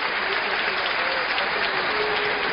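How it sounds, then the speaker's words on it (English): Steady, dense applause from a badminton crowd at the 2008 French Open final, filling the whole stretch with continuous, fairly loud clapping and no clear voices above it. "Crowd acknowledging what a good tournament they've had."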